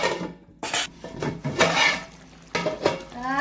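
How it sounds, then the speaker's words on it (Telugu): Metal clatter from a cooking pot in a village-style kitchen where a fish fry piece pulusu is being made, with several close scraping and clanking hits as a lid goes on, over a light background hum. "మూత పెట్టుకోవాలి."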